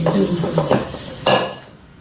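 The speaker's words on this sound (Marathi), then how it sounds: "ही माझी घासणी बरं का ती मोठी भांडी घासायला कशी काम करते" Large metal pots are scrubbed in a few rough, scraping strokes, with clanks of cookware nearby before the sound fades out.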